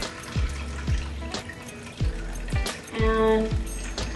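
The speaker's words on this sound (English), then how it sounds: "Let me put some water in this." Filtered water runs into a Vitamix blender jar in uneven splashing bursts, with a few low thumps and a rising gurgle as the jar fills; no voices.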